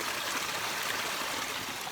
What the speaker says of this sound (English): here I am getting some water with my little pump